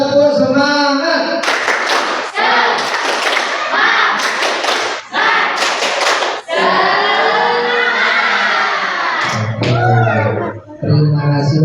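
A classroom group of Indonesian seventh-grade students does a rhythmic spirit clap, patterned bursts of hand claps in sequence, loud and close, with voices chanting between the claps.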